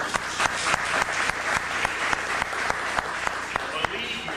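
An audience applauding a speaker's mother, a full, steady wash of clapping with crisp individual claps popping out, fairly loud and close, with faint voices underneath.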